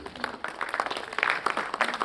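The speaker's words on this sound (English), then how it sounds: "Keep the applause going, ladies and gentlemen" An audience at a solar energy leadership conference applauds in scattered, fairly faint claps, with a low murmur of voices beneath.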